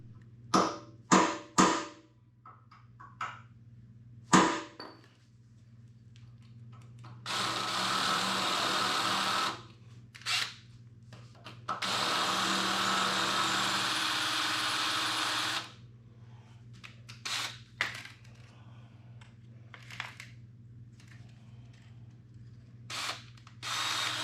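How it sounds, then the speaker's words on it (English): A drill bores into the old metal shaft of a failed car lift in short bursts: several brief stabs, then two long sustained grinding runs, with quieter handling clatter between. "that thing's drilling okay"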